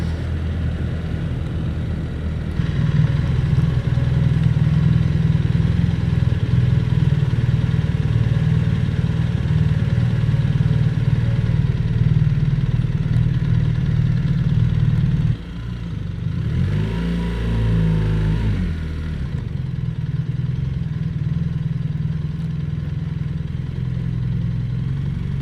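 A motorcycle is ridden slowly at about 20 mph, its engine a steady low drone close by that dips briefly midway before settling back into a continuous hum.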